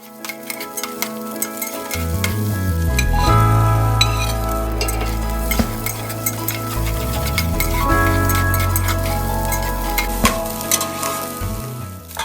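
Egg white, green onions, ginger and garlic stir-fried in a hot pan for pineapple fried rice, a loud continuous sizzle with clanking spatula strokes and scattered ticks over the whole stretch.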